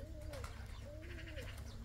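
A pigeon coos softly, with two or three low, drawn-out calls over a faint, steady background hum, the bird sounding fairly close but quiet.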